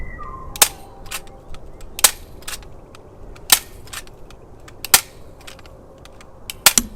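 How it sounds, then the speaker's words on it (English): A handheld staple gun fires about six sharp, loud snaps at uneven intervals outdoors, with quieter clicks and a low background hum between them. "let me get a staple gun"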